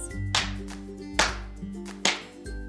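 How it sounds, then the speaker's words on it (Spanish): A group slapping their palms on their legs in a rhythm exercise: three sharp, loud slaps spaced evenly about a second apart over a low background hum. "Ahora vamos a chocar las palmas en las piernas."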